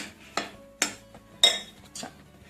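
Mixing dough ingredients with salt and ajwain in a bowl for Holi pakoda: four separate scraping, clinking strokes of a utensil against the dish, close and fairly loud, with no talk.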